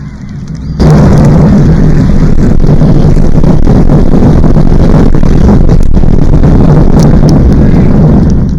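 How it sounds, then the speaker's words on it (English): Apollo 11 Saturn V rocket main engines igniting at launch, a sudden deep rumbling roar that bursts in after a brief quiet start and holds loud and steady, crackling with wind-like turbulence. "We have a go for main engine start. We have main engine start."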